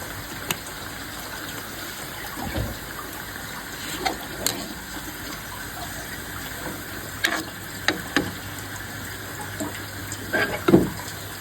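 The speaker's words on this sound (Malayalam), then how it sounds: "ഇനി നമുക്കിതിലേക്ക് കുറച്ച് വെള്ളം ഒഴിച്ചു കൊടുക്കാം" Bottled water poured into a pan of bitter gourd curry, giving a steady close splashing pour broken by a few louder clinks and sloshes near the end.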